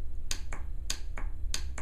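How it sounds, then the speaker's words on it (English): Trim tab hydraulic solenoid valve on a boat clicking open when 12 volts is applied, a series of sharp, close clicks repeating in a quick irregular rhythm over a quiet hum. "That's the sound of a good solenoid valve opening."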